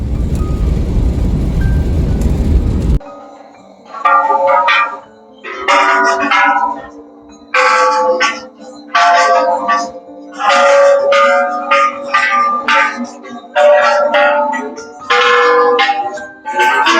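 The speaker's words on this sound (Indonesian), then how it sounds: "Ketika kita masuk ke kuil, tentu nggak asing lagi dengan lonceng." Bells ring at a Buddhist temple in Thailand, a series of bright ringing strikes in clustered bursts with short pauses, after an opening stretch of rumbling background noise.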